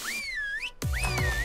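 Two sweeping whistle calls from the ARK Survival Evolved video game, each rising and falling in pitch, with a short gap between them and a low thump where the second begins.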